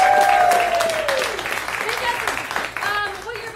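Audience applause for a keyboard player at a live show, steady clapping filling the room, with someone talking over it and a held musical tone fading early on.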